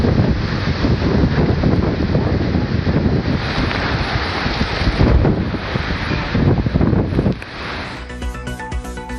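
Dust-laden wind sweeps through Ayothiyapattinam in Ammapettai, Salem district: loud, close gusts roar and buffet against the microphone in surging waves, then give way to a short burst of music near the end.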